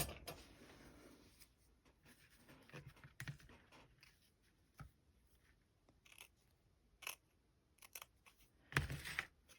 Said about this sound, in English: I'm going to cut this just a little bit bigger than what I need